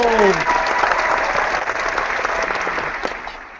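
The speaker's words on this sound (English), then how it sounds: "Round of applause." A small group breaks into loud applause after a creative competition, with dense clapping and a cheering voice at the start, gradually thinning out over a few seconds.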